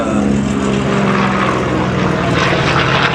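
A propeller fighter with inverted gull wings and a radial engine drones steadily overhead at an airshow, a loud, continuous engine roar with a faint rise in pitch as it passes.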